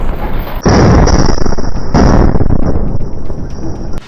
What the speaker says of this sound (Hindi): हमास का एक लड़ाका मलबे के बीचों बीच खड़े एक टैंक पर रॉकेट फायर कर